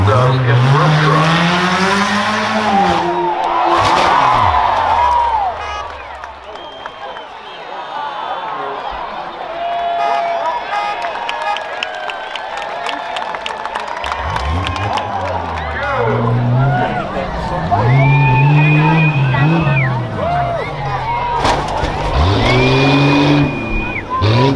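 A 2006 Ford Fusion runs a rough truck course at a county fair, engine revving and swelling in rising and falling bursts with tire noise, loud and close, while an announcer talks over much of it.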